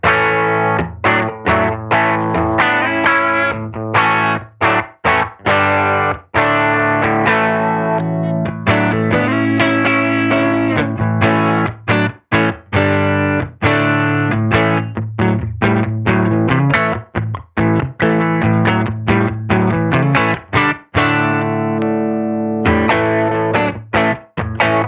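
Scythe Guitars OH19 electric guitar with single-coil pickup played clean through a Benson amp, a continuous run of strummed chords and picked notes, loud and close with brief pauses between phrases and no talking.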